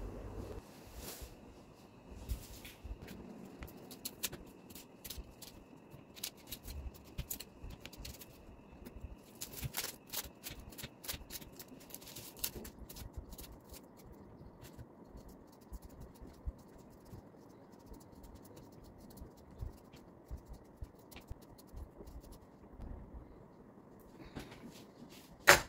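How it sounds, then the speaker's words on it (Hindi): Onion, potato and garlic being cut in a home kitchen, with a long run of irregular knife clicks and scraping taps against a board, close and steady, without talk. "हुण मैं प्याज आलू लसन वगैरह"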